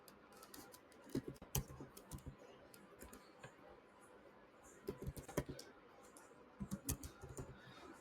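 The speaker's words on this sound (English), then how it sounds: "Here we'll type Azure" Typing on a computer keyboard, close-up, with quick bursts of key clicks separated by short pauses and a few louder keystrokes.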